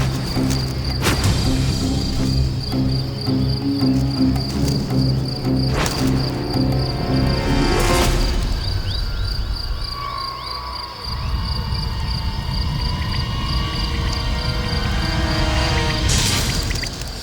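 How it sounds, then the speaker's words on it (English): Crickets chirp continuously at close range, a steady pulsing insect trill with rough scuffling and rustling noises layered beneath as the two fight. "The powerful crickets are so engrossed in beating each other up"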